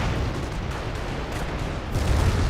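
Dense, continuous roar of rocket barrage artillery in Company of Heroes, with booming low rumble and crackling blasts packed together without pause, loud and close, growing heavier at the end.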